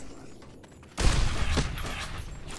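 Gunfire striking the player character in the Fallout: New Vegas video game, a sudden loud burst of shots about a second in, followed by a dense sustained clatter that holds steady to the end.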